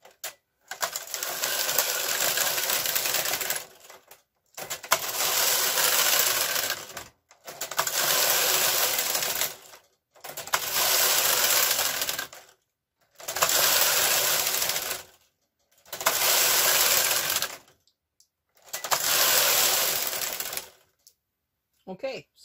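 A knitting machine carriage sweeps back and forth across weighted needles, knitting rows of tuck stitch. Seven loud, rushing passes of about two seconds each are separated by short pauses.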